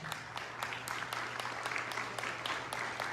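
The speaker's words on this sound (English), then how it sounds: "Give them a round of applause." An audience claps through a live night-time discussion broadcast, giving steady, moderately loud applause that runs the whole few seconds as a dense patter of hand claps.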